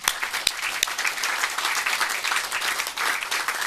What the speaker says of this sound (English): So give all those partners a big applause.